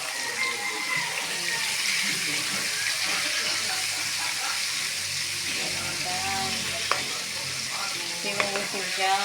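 Chicken pieces fry in hot oil in a pan, a steady close crackling sizzle with occasional sharp pops and stirring scrapes, with people talking faintly in the background.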